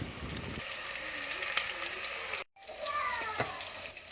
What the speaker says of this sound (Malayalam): കറിവേപ്പില ഏകദേശം നന്നായി മൂത്തതിന് ശേഷം വെട്ടി വെച്ച ഉള്ളി നമുക്ക് അതിലേക്ക് ഇട്ട് കൊടുക്കാം